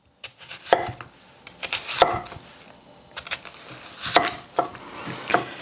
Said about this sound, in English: all we're doing is slicing it like this